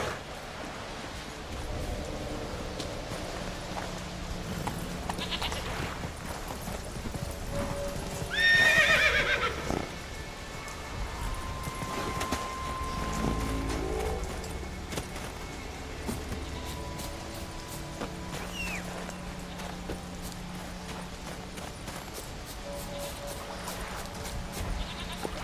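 Roach, a horse in The Witcher 3 video game, gives a loud whinny partway through amid steady clip-clop hooves and ambient game sounds.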